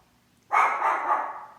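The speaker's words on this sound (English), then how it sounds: "Stop barking." A single dog bark, sudden and fairly close, with a short ringing tail, rising out of a quiet room.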